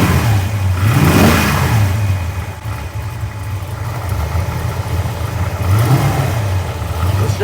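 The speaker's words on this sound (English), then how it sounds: "A little bit of valve noise, which I expect." A 1967 Shelby GT500 Mustang engine with noisy valve train, a slight exhaust leak and a loose distributor runs close by, idling roughly with a couple of rising revs and a steady low rumble throughout.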